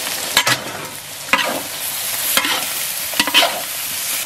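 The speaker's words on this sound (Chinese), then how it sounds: "下入牛皮爆炒" Beef skin stir-fried hard in a hot wok with rapeseed oil, pickled ginger and chilies: a steady loud sizzle with several sharp scraping stirs of the spatula, close up and free of talk.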